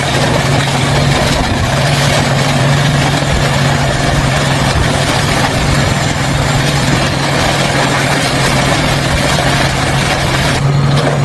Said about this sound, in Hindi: देखिए जरा पोकलेन मशीनें चला दी गई उसके ऊपर